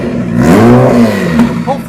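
The engine of a DCT S15 drift car revs loudly and close by, its pitch sweeping up and back down in a single throttle blip before settling.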